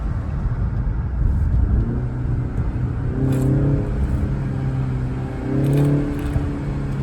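A BMW 330i engine hums and rumbles steadily, with a couple of rising revs and a throaty exhaust note swelling briefly, heard from inside or near the car at night.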